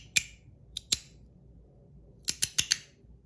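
Sharp, crisp clicks from an S-Nano fidget toy in zirconium, a single click, then a pair, then a quick run of four, all close and loud against near silence.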